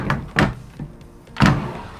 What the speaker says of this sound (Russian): вся эта зона у нас закрывается вот такой основательной деревянной дверью